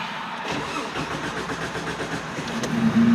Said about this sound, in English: let's turn the Jeep on, wait for the fuel pressure to go up